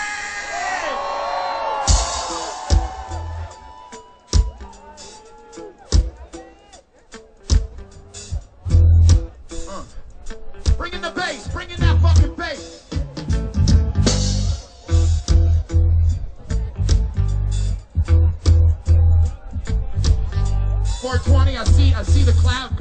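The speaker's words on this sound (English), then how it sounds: "This is Seattle HempFest, an unknown hip-hop band," A hip-hop band plays live at Seattle HempFest, heard from within the crowd: thumping bass beats and rapped vocals through loud outdoor speakers, with whoops and shouts from the audience rising in bursts.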